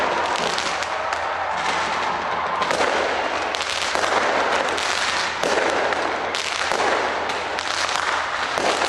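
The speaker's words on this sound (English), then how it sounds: "New Zealand became one of the first countries in the world to celebrate New Year's Eve with a spectacular fireworks display from the Auckland Sky Tower" Dense, continuous crackling and popping bursts from a New Year's Eve fireworks display launched from the Auckland Sky Tower, New Zealand, welcoming 2025, loud and sustained with overlapping explosions throughout and no talk.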